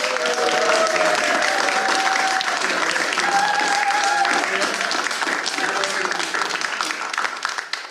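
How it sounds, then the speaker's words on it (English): Big round of applause from the audience at a Miami Springs city council meeting, sustained crowd clapping that stays loud and dense for several seconds with a few voices mixed in, tapering slightly at the end. "how about a big round of applause"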